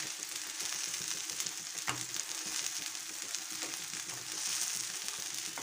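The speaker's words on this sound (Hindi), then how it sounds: "दोनों तरफ से अच्छे से सेक लो" A semolina chilla fries in a pan with a little refined oil, giving a soft, steady sizzle throughout with a few light scrapes and taps and no talking.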